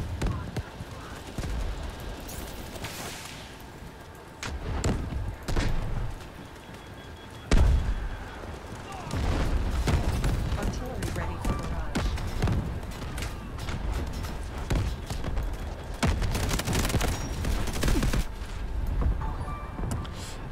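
Heavy artillery fire in the Delta Force Hawk Ops multiplayer shooter, booming low rumbles and repeated blasts running almost continuously over a dense battlefield din, with occasional talk over it.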